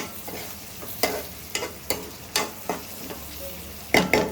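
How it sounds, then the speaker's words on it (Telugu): Tomato, mint and coriander stirred into a goat leg curry produce a low background sizzle broken by a series of sharp spoon scrapes and clacks against the pot, roughly every half second, close by with no talking. "ఇప్పుడు ఇదైతే చక్కగా మగ్గిపోయింది టమాటా కూడా వేసిన తర్వాత ఇందులో మనం కొంచెం పుదీనాను కొంచెం కొత్తిమీర అయితే వేసుకుందామండి వేసుకున్న తర్వాత ఒక్కసారి అయితే కలిపేసుకున్నాము"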